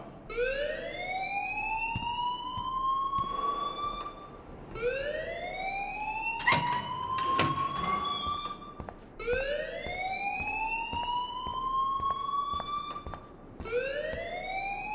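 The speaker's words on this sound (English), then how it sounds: "please turn off that alarm since that's your job" A school alarm from the video game Life is Strange sounds alone, a loud rising electronic wail repeating every few seconds, with a brief harsh burst in the middle.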